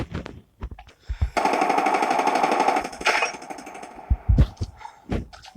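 Rapid automatic gunfire from weapons in the video game Call of Duty rattles out in a long sustained burst, broken by a few shorter bursts and single loud shots before and after, close and loud with no talking.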